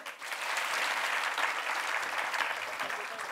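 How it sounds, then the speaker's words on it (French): A live audience at a climate talk applauds as two guests, activist Camille Etienne and Jérémy Suissa, are welcomed, a dense steady wash of clapping that holds evenly throughout. "j'ai le plaisir d'accueillir nos deux intervenants que je vous demande d'applaudir très fort"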